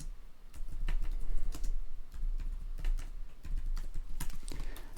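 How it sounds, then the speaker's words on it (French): Rapid, uneven keystrokes on a computer keyboard while text is entered in 3D modeling software, close and fairly steady across the whole stretch with no voice. "Et puis je tape le texte que je veux."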